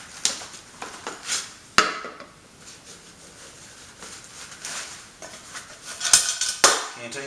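A metal canteen and its canteen cup handled close up, giving a few sharp clinks and knocks among softer rustling and shuffling.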